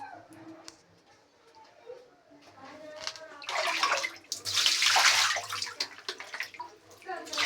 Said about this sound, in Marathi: मटणमध्ये पाणी ओतून स्वच्छ धुवून घ्यायचं